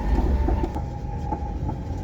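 A passenger train rolls along the rails on a snowy day, a loud steady rumble from inside the carriage with rhythmic wheel clicks and faint squeals over the running noise.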